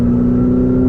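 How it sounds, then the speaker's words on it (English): A Ferrari F8 Tributo's twin-turbo V8 holds a loud, steady engine drone with a strong low hum, heard close and alone for about a second. "That twin turbo V8, it's insane."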